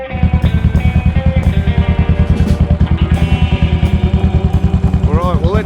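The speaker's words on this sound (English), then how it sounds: "500cc single, and you can hear it. Just that typical old 500 single" A Royal Enfield Continental GT 500cc single-cylinder motorcycle engine idles close by with a steady, deep thumping beat, loud and unbroken, with a brief higher mechanical whine near the end.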